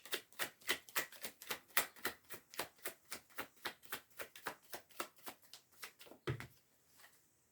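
Tarot cards are shuffled for a reading, giving a steady, evenly spaced run of soft papery slaps, about three per second, up close and quiet before stopping.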